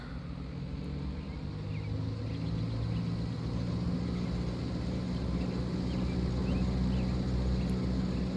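A Cessna's piston engine drones steadily during a run-up to 1800 RPM, a dense low rumble that builds slightly in loudness and holds with no talk over it.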